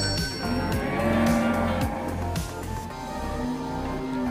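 Cattle at the Bekonang livestock market moo loudly and close by, several overlapping lowing calls over a steady crowded background hum.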